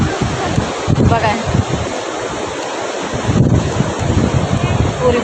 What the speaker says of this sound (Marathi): समुद्राच्या लाटा बघा बघा, आवाज येते का तुम्हाला?